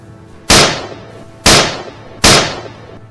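Three loud, sharp gunshots ring out during a wild boar hunt in a swamp, spaced about a second apart, each a close, cracking blast with a short decaying tail.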